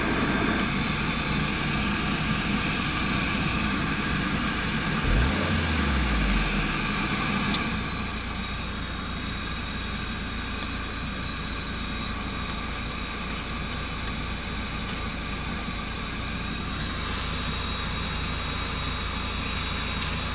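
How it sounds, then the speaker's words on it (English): A steady, loud fan heater blows inside an MG TF 160 roadster, an even whooshing hum that drops slightly in pitch partway through and then holds. "Fan heater works fine."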